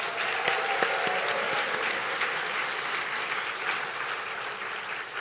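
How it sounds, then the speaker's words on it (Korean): A church congregation claps in sustained, dense applause throughout, a steady wash of many hands in a reverberant hall without distinct voices. "감사의 박수 한번 보내도록 합시다"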